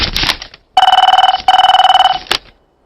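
Rapid electronic ring of a telephone in two loud bursts of trilling pulses, with short rustling noises before and after and silence at the end.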